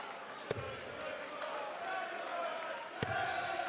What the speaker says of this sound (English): And the crowd are singing his name.